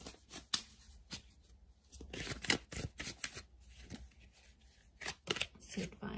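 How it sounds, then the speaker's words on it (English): Tarot cards are shuffled and laid out, with quick riffling bursts and papery slaps, close and crisp, while a person speaks quietly over them. "Let's lay out a couple cards from the universe."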